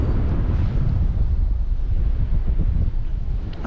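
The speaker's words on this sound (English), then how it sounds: "And there's the wind." Steady, loud wind buffeting and rumbling across a GoPro fitted with a foam windslayer outdoors among trees, a constant low roar with gusty fluctuations and no talk.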